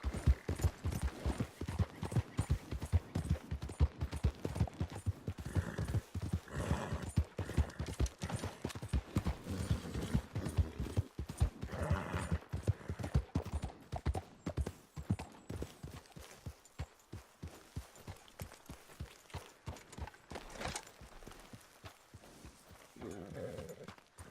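Horse hooves clip-clop at a steady riding pace in Red Dead Redemption 2, with rhythmic clear beats near and fairly loud that slow and thin out toward the end.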